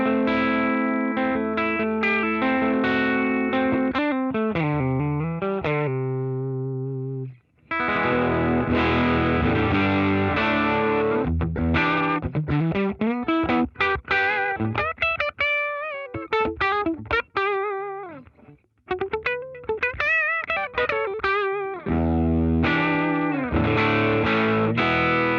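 Overdriven electric guitar through a Fractal Audio tweed amp simulator plays chords and single-note runs with a gritty, vintage amp tone, a short pause midway, then busier phrases ringing out.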